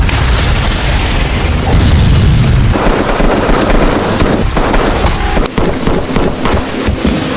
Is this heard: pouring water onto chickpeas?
no